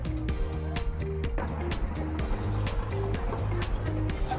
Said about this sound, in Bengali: আমাদের ট্রলারটা ছাইরা দিচ্ছে এখন।